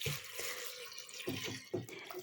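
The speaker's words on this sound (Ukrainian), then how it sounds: "Заливаю я його водою." Water is poured over dried apples, pears, cherries and prunes in a pot for a Christmas Eve uzvar compote, giving a close, continuous splashing trickle with a few louder gushes.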